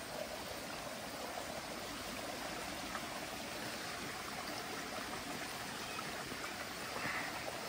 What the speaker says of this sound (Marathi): इकडून वरून पाणी येतं ते डायरेक्ट इकडे आमच्या परसवनात येतं खाली.